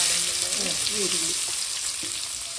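Onions frying in a pan for a village-style Mangalorean yetti (dried shrimp) chutney, a steady close sizzle with a few soft stirring scrapes and no talking.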